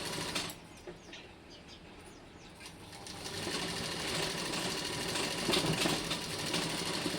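Sewing machine stitching a baby frock, running in a steady, fast mechanical whir that grows slightly louder and busier partway through, heard close up with no talking.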